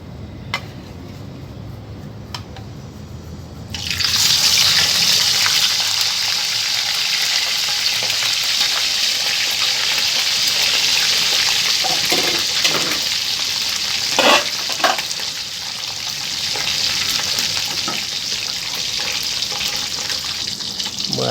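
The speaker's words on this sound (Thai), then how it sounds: "ต่อไปก็ทอดปลาทู" Mackerel frying in a pan of hot oil for a Thai shrimp-paste chili relish, a loud steady sizzle that bursts in after a quiet start and continues with occasional pops and crackles.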